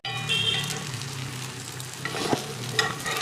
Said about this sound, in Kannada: ತಟ್ಟಿರೋ ಕಟ್ಲೆಟ್ನ ಒಂದೊಂದಾಗಿ ಹಂಚ ಮೇಲೆ ಇಟ್ಟು ಕಾಯಿಸ್ತಾ ಬನ್ನಿ.